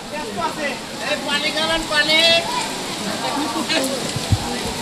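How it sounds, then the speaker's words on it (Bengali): Heavy rain pours down on a Muharram procession, a dense, even wash of drops hitting surfaces nearby. Voices rise and fall underneath the downpour. "এই প্রচণ্ড বৃষ্টি হচ্ছে এই মুহূর্তে।"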